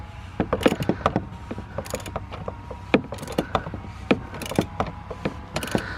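A filter wrench tightens the oil filter on a 2015 Sprinter van with a 2.1L four-cylinder engine, making a run of close, irregular ratcheting clicks and metallic clanks.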